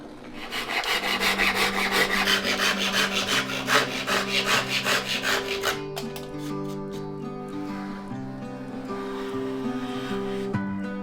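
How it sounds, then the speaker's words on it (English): A hand plane is pushed across wooden cabinet surfaces in repeated rasping strokes, close and steady at first, then a slower, quieter stretch of scraping. "and I also hand-plane all the surfaces."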